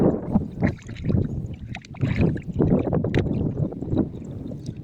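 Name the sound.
strong wind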